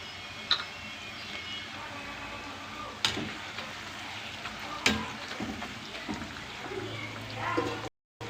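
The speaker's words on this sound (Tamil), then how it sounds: "வாழைப்பூ வேகணும் அதனால் நல்லா கொஞ்சம் சிம்மில் வச்சு வேக விடுவோம்" Banana flower simmering on low heat in a pan while making banana flower pakoda gives a steady soft frying hiss throughout, broken by a few sharp clicks and stirring knocks, with a low bubbling murmur near the end.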